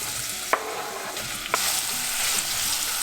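Onions fry in hot oil for tadka dal, a steady bright sizzle broken by two sharp utensil clinks as they are stirred, louder after the second stir, with no talk.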